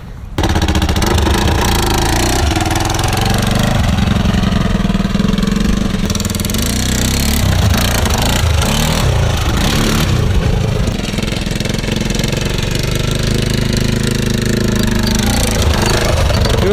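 A quad ATV fitted with a new custom exhaust runs steadily for the whole stretch, its loud, rumbling engine note close and continuous with a gritty, knocking pulse and no talk over it.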